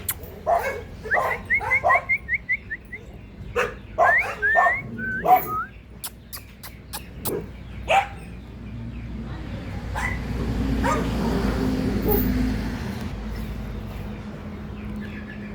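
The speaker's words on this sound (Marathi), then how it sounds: "तर रस्ता असल्यामुळं कुत्रं बोगतात मित्रांनो, साहजिकच आहे." Dogs bark near a road by a poultry farm, a burst of sharp repeated barks and yips up close, then fading into a steady rumbling background of passing traffic.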